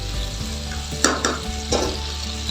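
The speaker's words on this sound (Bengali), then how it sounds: "আঁচটাকে বাড়িয়ে নিয়ে হালকাভাবে সাঁতলে নিচ্ছি" Green tomatoes lightly frying over raised heat, a close steady sizzle with a few sharp scrapes and clinks of a utensil stirring the pan.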